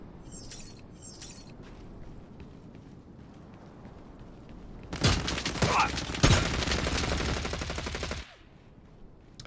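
A rapid burst of gunfire in the video game Lost Light, dense and loud, rattles for a few seconds after some quieter clicks and background noise, then cuts off abruptly.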